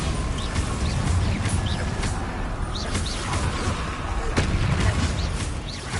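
Spell explosions from Confringo and Bombarda in Hogwarts Legacy: a dense, continuous barrage of booming blasts and crackling impacts, loud and close, with a voice calling out spell names over the din.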